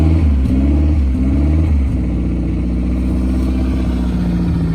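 A used car's engine revving as gas is applied while the air mass meter is suspected dirty, pitch climbing and dropping in uneven surges before settling into a steady, close idle drone.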